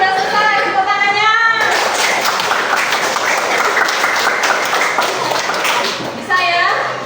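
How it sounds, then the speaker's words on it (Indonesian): A classroom of elementary schoolchildren bursts into loud, dense applause for about five seconds, with children's voices speaking briefly before and after the clapping. "Tepuk tangannya."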